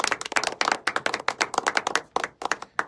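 Audience clapping at a community talk on the Afro community in Las Piedras, a burst of sharp, uneven handclaps from a small crowd, fairly close and continuing steadily for a few seconds with no talk over it.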